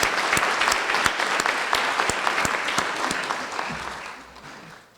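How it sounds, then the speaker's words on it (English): Audience applause at the annual President's Leadership Awards at Eastern: a dense, steady roomful of clapping that holds strong for about four seconds, then tapers and fades out. "Let's give them a round of applause."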